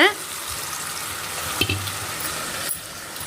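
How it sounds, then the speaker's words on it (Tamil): Ground black kavuni rice sizzles steadily in hot oil in a pan over medium flame, a continuous near frying hiss with a few brief clatters of stirring and no talk. "இப்போ நம்ம இதில் அரைச்சி வச்சுருக்கக்கூடிய இந்த கருப்பு கவுனி அரிசியை சேர்த்துக்கலாம்."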